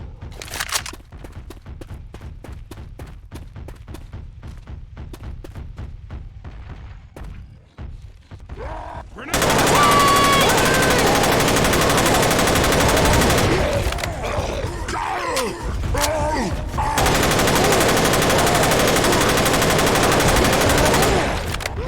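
Sustained rapid gunfire from a weapon in Left 4 Dead 2 erupts loudly after a quieter stretch of scattered shots and footsteps, continuing as dense bursts with brief pauses.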